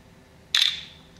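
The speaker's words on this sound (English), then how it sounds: "hit the shutter key right now" A single crisp synthetic shutter click from a CAT S60 rugged smartphone camera, sharp and close with a brief fading tail in a quiet room.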